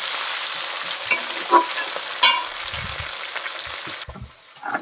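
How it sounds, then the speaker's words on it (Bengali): Green chili and potato frying for khichdi in a village kitchen, a steady broadband sizzle with a few sharp scrapes of stirring, fading near the end. "কাঁচা লঙ্কা আলু এবার ভালো করে একটু ভেজে নেব"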